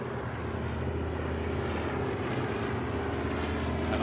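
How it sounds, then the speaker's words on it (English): A twin-engine de Havilland Dove propeller aircraft flies past at a flypast, giving a steady, loud, droning engine hum that holds evenly throughout with no voices. "the twin-engine de Havilland Dove, flown by British Airways 747-400 pilot"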